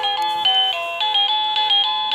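Wireless doorbell at an interactive store display plays a bright, steady electronic melody of sustained chime tones changing pitch every quarter second or so, loud and close with no voices.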